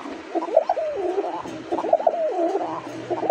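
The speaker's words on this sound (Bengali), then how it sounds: "একদম ককা কবুতরের মতো ডাকে ফটর ফটর করে ভাই।" Domestic pigeons coo in repeated rolling, throaty phrases, close and fairly loud, two bursts with a short gap between them and no talking.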